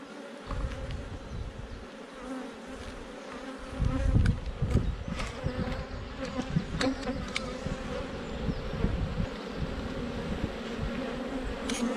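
Honeybees from a large hive that is preparing to swarm buzz densely and continuously around the open hive, a close, steady drone with individual bees swelling louder as they pass near.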